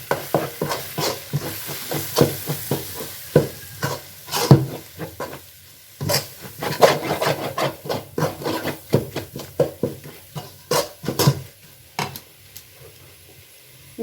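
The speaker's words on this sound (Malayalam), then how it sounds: "ഇതെല്ലാം കൂടി ചേർത്ത് നമുക്ക് ഒന്ന് ഇളക്കിയെടുക്കാം" Chicken is stirred with masala, pepper, coriander and chili powders for biryani, a close series of irregular scraping, rubbing strokes over a soft sizzle, with short pauses between them and no talk.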